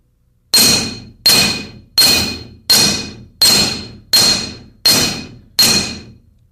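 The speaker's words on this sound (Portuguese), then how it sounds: "As marteladas são dadas do centro da tira para as extremidades" Eight evenly spaced hammer blows ring out on a metal strip resting on a block, struck from the centre toward the ends, each a sharp clang with a short decaying ring, loud and close, no talking.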